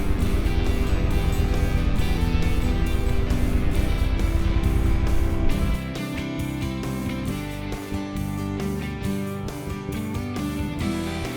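Strong crosswind roaring over a motorcycle rider in Death Valley, a loud steady rumble of buffeting wind mixed with engine drone that drops to a lower, choppier roar partway through.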